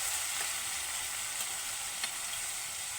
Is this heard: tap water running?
no